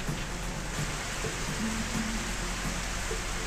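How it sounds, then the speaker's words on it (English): Steady rain falls in the video game Shattered Hourglass, a continuous even hiss of drops that stays moderately quiet and constant throughout, with no talk. "And more rain."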